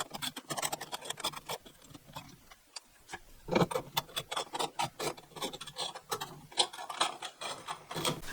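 A screwdriver tightens the screws of a ceiling light fitting. It gives a run of close, crisp ratcheting clicks and scrapes in uneven bursts, with a short pause partway through.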